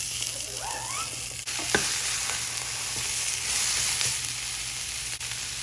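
Sliced onion frying and being stirred in a pan for a Palakkad-style egg tamarind gravy, a steady close sizzle with occasional scrapes of a spatula, no talking.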